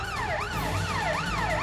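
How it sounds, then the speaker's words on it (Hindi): An ambulance siren wails in a fast, repeating up-and-down sweep, loud and close, as the ambulance leaves a police station and speeds along a single-lane road in rural Kanpur. "सट्टी थाने से एम्बुलेंस निकल रही है"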